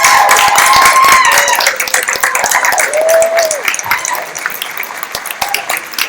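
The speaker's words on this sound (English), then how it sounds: "please stand and applaud your support" A standing audience at an education action meeting in downtown San Jose claps loudly and continuously, many hands together with a few voices calling out, the applause gradually thinning toward the end.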